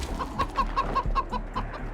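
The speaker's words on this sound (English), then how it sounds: "I see a chicken." A chicken in the Wasteland 3 video game clucks in a quick, steady run of about nine short, evenly spaced clucks, fairly loud and close, over a low background rumble with no speech.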